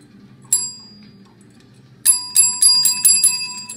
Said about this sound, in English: He's gonna be happy banging the bell around like that.